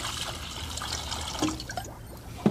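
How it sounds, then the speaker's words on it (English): Vinegar poured from a container into a pitcher, a light trickling stream with small splashes that thins out toward the end, then a brief clunk. "Pour some vinegar into a pitcher."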